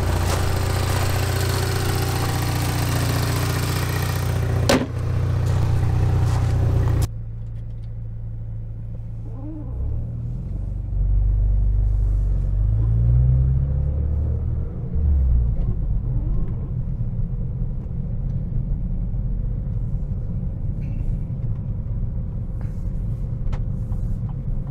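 A SAAB 9-5 Turbo4 car running, first a loud steady engine drone up close, then a quieter low rumble as it drives off, with shifting engine tones and no talking.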